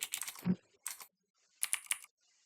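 Computer keyboard typing a chat message: quick bursts of close key clicks in three short clusters separated by brief pauses, with no talking.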